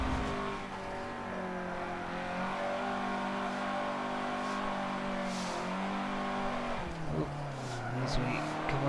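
A race car drifts in Forza 7 driven on a steering wheel with sim steering, its engine holding a loud sustained rev that shifts pitch, with tire squeal and skidding and a voice talking underneath.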